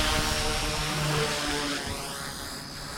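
XK K130 RC helicopter coming in to land, a steady close rotor and motor whine with a pitch that slowly drops as it descends, loud and continuous.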